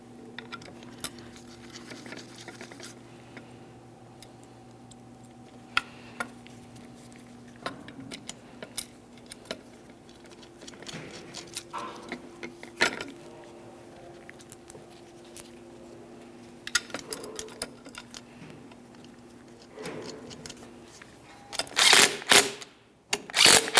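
A ratchet snugs up the radiator fan mounting bolts on a 1998-2002 Lincoln Navigator, with faint scattered clicks and taps against a low steady hum, then a louder rapid burst of ratcheting clicks near the end.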